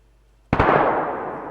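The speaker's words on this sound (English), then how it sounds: "gunshots." A single sharp gunshot in the game DayZ, fired while aiming down iron sights, cracks loudly and then leaves a long decaying echo tail with no voices.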